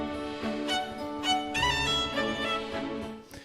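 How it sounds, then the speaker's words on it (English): Joyous orchestral music from The Fellowship of the Ring, sustained strings and winds with a swelling melody, fairly quiet and brief. "The super joyous track from Fellowship sounds like this."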